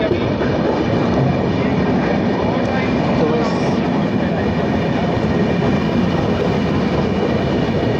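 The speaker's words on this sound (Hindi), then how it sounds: "निर्धारित समय से अपनी ट्रेन आ चुकी है अपने चौथे ऑफिशियल स्टॉप अपना Sita Rampur junction railway station." Black Diamond Express passenger train pulling into Sitarampur Junction railway station in India, a steady loud rumble of the train throughout with talk faintly present under it.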